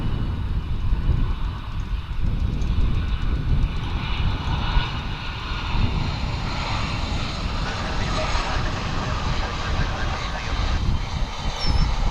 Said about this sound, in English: It's a 737-800. It's American Airlines flight 1034.